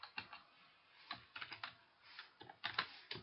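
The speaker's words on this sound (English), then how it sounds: "so we'll type it here" Fingers type on a computer keyboard in short uneven bursts of close, crisp key clicks, with brief pauses between groups of keystrokes and no talking.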